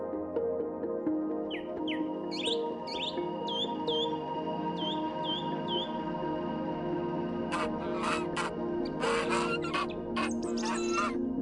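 Canada geese call in riverside marshes, a run of short rising honks at moderate distance over a steady outdoor hiss, followed by a cluster of sharper, busier calls.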